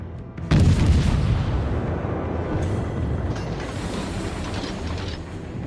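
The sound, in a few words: naval cruiser guns firing shells in World of Warships video game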